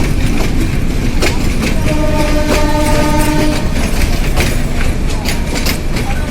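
A train pulls into Parbatipur station, its horn sounding in a long sustained blast over loud, steady rumbling and wheel clatter that fills the whole stretch.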